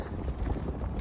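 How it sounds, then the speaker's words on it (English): Wind blowing hard into a microphone outdoors near the Port Welshpool long jetty, a steady low buffeting roar with no talk. "this wind's picking up too much"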